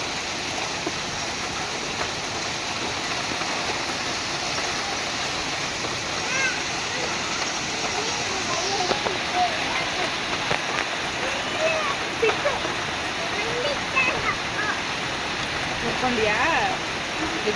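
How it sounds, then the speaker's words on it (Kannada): Heavy rain pours outside a home during a power cut, making a dense, steady hiss and splatter that stays loud and unbroken throughout. "ಮಳೆ ಸಿಕ್ಕಾಪಟ್ಟೆ ಜೋರಾಗಿ ಬರ್ತಾ ಇದೆ,"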